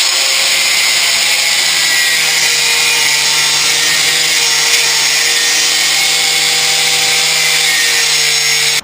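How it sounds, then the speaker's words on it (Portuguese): An angle grinder runs steadily and loudly through a gear shift plate for a 1989 Volkswagen Kombi, a continuous high metallic whine held at an even level without pause. "Eu agora já terminei de passar a esmerilhadeira"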